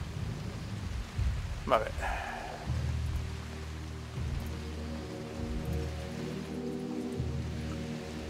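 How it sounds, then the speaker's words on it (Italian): Steady rain with low rumbling thunder falls in the dinosaur-park video game Jurassic World Evolution, a continuous wash under a brief spoken remark. "comincia anche a piovere"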